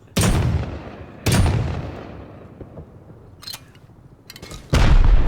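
Heavy booming blasts from rockets in a Rust firefight, three big impacts with long rumbling decay and a couple of sharper cracks between them, loud and close.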